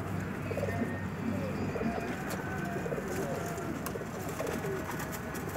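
Qaisar Mitha pigeons cooing at close range, repeated soft throaty coos with a few chirps mixed in over a steady background hum.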